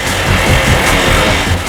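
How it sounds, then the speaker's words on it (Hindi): A recorded motorcycle engine is played back as a test sound during a police inquiry, giving a short, loud, steady roar of a running engine with no voices. "तो हम तुम्हें कुछ बाइक्स की आवाजें सुनाएंगे"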